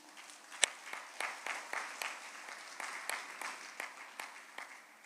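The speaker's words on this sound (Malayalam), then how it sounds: "ഒന്ന് കൈയുയർത്തി കൈയടിക്കുക." A church retreat audience claps in unison with hands raised, slow evenly spaced claps that sound fairly distant and soft, one louder clap standing out near the start.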